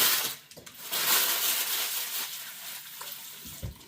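Tap water runs steadily to wet parchment paper for a hot cross bun tin, a close, constant hissing splash with a few small crinkles and knocks near the end.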